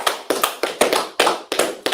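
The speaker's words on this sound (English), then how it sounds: "let's clap it up for class, guys" A class clapping in unison, sharp loud claps in a steady rhythm, about seven strokes spaced roughly a quarter second apart, each with a short decay.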